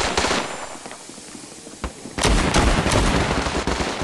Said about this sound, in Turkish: Nereden sıkıyorsunuz ya?